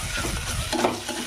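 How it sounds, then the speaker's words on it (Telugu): Sambar powder and chilli powder fry in a pan for carrot rice, giving a steady close sizzle with a stirring scrape partway through. No one speaks. "కొంచెం లైట్గా వేగితే చాలు, సూపర్గా ఉంటుంది."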